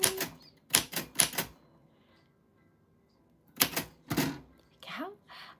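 A typewriter clacks in quick clusters of keystrokes, with a pause before another short burst, fairly close, followed by a faint voice at the end.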